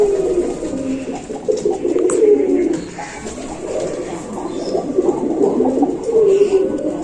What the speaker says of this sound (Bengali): এই যে পায়রাগুলো